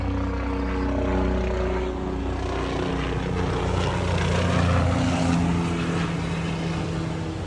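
A steady rotor and engine drone hangs in the air at moderate volume, swelling slightly as a helicopter passes over.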